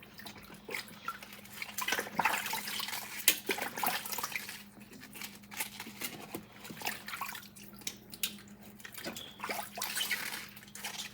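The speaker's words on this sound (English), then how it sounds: "I already poured out the salt water, so now I'm just rinsing it out." Steady running water splashes and trickles, with pork being rinsed after a salt-water soak and moved around under the stream, continuous throughout with no talking.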